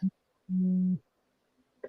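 A phone alert tone at moderate level: a short low beep, then a longer steady buzzing tone lasting about half a second, followed by silence and a faint brief blip.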